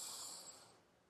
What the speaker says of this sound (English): and a breath in